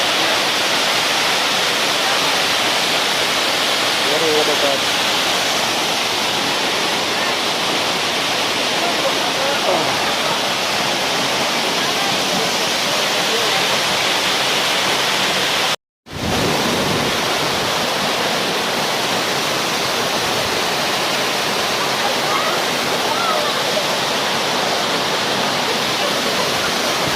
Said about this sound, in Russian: Первый водопад.